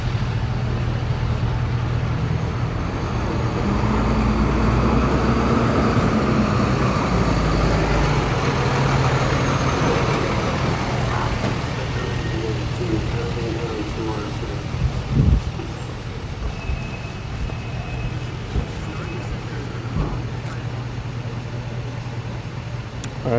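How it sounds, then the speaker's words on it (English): Near a rollover crash scene at night, a heavy engine idles with a steady low rumble alongside roadway traffic noise, with a sharp knock partway through and faint beeping tones later. "Tow truck coming."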